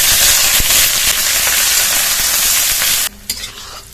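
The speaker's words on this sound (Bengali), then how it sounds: "এবার রান্নার জন্য এর মধ্যে তেল দিয়ে দেবো। পেঁয়াজ, রসুন আর কাঁচা লঙ্কা চেরা দিয়ে দেবো।" Onion, garlic and slit green chillies frying in hot oil, a loud, steady sizzle and crackle close by with stirring scrapes, cutting off abruptly near the end to a quieter, patchy hiss.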